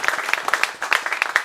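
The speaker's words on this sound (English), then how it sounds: "I thought we ought to actually give him a big round of applause right now" An audience at a Marin County Supervisor candidate forum claps for the moderator in a brief, scattered round of hand claps. The sharp claps come close together for a moment.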